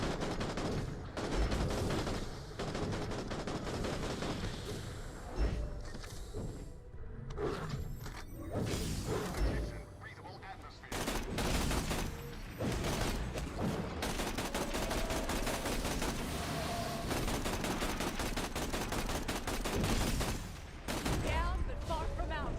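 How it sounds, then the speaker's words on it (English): Heavy gunfire in the Borderlands: The Pre-Sequel video game, rapid repeated shots and bursts rattling almost nonstop for over twenty seconds, loud and close, with brief lulls and game effects mixed in. "let's go ahead and shoot these guys too"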